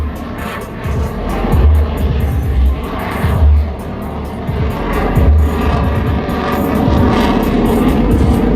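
A USAF F-22 Raptor jet flying a demonstration at the Singapore Airshow 2020 gives a loud, sustained broadband engine roar that swells and eases as it passes, with no talk heard.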